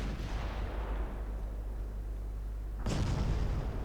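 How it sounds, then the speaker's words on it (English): Naval guns of a light cruiser fire salvos in a warship combat game, heavy booming blasts with a long rumbling decay, followed by another loud salvo near the end, no voices. "Not when I can land salvos like that."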